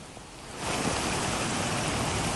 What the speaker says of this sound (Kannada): ನೀರು ಯಾವ ರೀತಿಯಾಗಿ ಹರಿತಾ ಇದೆ ಅಂತ ಹೇಳಿ